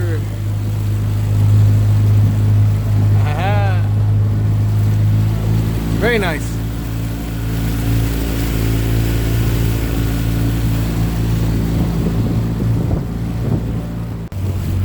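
A motorboat engine drones steadily and loudly through the whole stretch while heading out on the Manatee River in Bradenton, Florida, with wind buffeting the microphone and a person speaking briefly over the motor.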